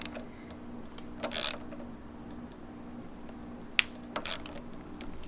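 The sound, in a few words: tightening bolts on Honda Grom clip-on race bars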